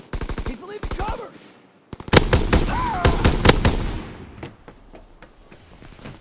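Anti-aircraft guns firing in a WW2 video game, rapid bursts of sharp shots in quick rhythmic volleys, with a short gap and then a louder, denser barrage that tails off into faint distant pops.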